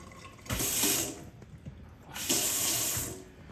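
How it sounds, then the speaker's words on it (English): An IKEA VIMMERN mixer tap is turned on twice at a kitchen sink after a drip repair, each time giving a loud burst of gushing, hissing water that runs about a second before cutting off, with no talk. "turning the tap back on"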